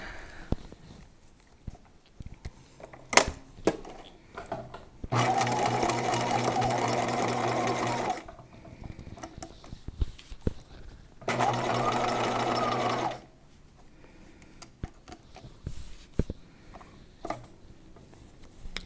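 A sewing machine stitches the collar of a gown in two steady bursts of about three and two seconds, separated by quiet pauses with faint handling clicks and rustles.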